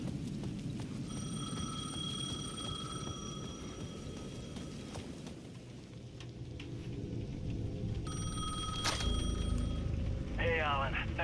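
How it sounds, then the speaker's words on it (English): Payphone at the edge of a plaza in Alan Wake II, ringing in repeated electronic bursts over steady rain and low rumbling thunder, with a voice briefly speaking near the end. "The payphone at the edge of the plaza was ringing again."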